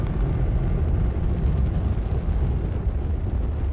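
Rocket launch in the space game Astroneer, a loud, steady low roar and rumble of thrust filling the scene without interruption.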